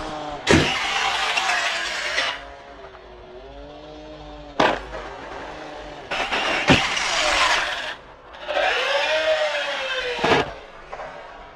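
An Arrma Typhon V4 RC car's electric motor whines in several rising and falling bursts during ramp jumps, including reverse throttle to bring it down, with sharp impact clatters between runs.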